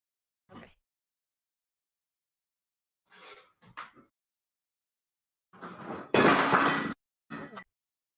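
A water bottle drops and clatters with a loud, sharp crash. A few short knocks and rustles come before it, and a brief bump follows.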